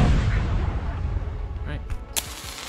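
A bomb exploding in a homemade 2D video game, a loud rumbling blast at the start decaying into noisy debris, with a couple of sharp spark crackles near the end.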